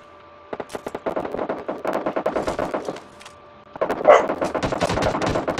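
Rapid bursts of automatic gunfire in PUBG crackle in quick succession, pausing briefly before a louder volley resumes, set against the game's ambient hum.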